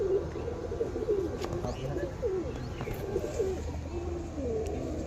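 Pigeons coo repeatedly in soft, rolling calls nearby in a netted loft, over a low background murmur.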